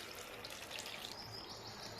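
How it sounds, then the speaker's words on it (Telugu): Water pours steadily into a vessel of lentils, a continuous close gush and trickle at moderate level. Faint chirps sit in the background. "చూడండి, వాటర్ పోస్తున్నా."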